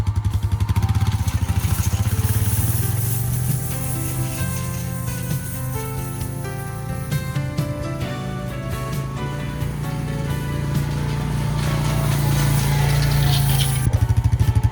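An ATV engine drones steadily and loudly while towing a Garvee 4' x 5' drag harrow across a food plot, with continuous clatter and rattle of the harrow scraping and churning loose soil.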